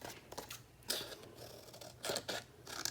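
Scissors snip out a paper bee cutout, a few soft, crisp cuts spaced irregularly, quiet and close with no talking.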